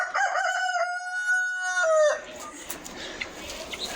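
A rooster in Brazil gives one loud, drawn-out crow lasting about two seconds, close by and clear, fading into faint outdoor background noise afterward.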